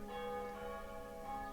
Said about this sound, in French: Notre ami à l'église s'amuse avec ses cloches